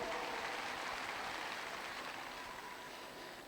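A crowd at the Sydney Royal woodchopping and sawing international relay applauds the New Zealand team, a steady, distant hiss of many hands clapping that holds evenly and fades slightly toward the end.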